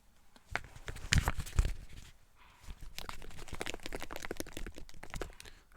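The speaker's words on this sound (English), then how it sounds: "That's the sound of the marshmallows rattling around." Mini marshmallows rattle and crinkle inside a hot chocolate packet as it is shaken, in close, crisp bursts that swell, pause briefly, then continue as a steady rustle with no talking.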